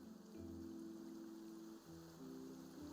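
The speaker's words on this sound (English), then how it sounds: "It's raining." Steady rain patter in Genshin Impact, a continuous even hiss of falling drops at moderate level, with no voices over it.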